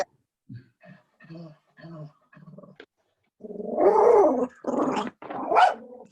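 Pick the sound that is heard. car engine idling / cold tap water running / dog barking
dog barking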